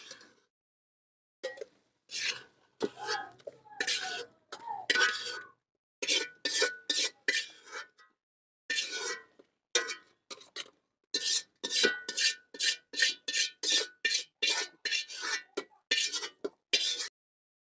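Tomatoes and onions are pounded and ground in a traditional stone mortar, heard as repeated sharp knocking and scraping strokes that come in quick, steady bursts with brief pauses between, close and clear with no talking.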